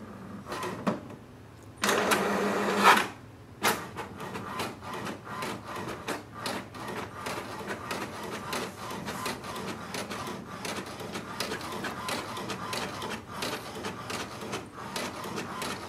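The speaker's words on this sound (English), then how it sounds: "it's printing the welcome sheet" An HP DeskJet 2755e inkjet printer runs steadily, with a rhythmic mechanical rasp and whir from the print head moving back and forth, continuous throughout after a few louder bursts at the start.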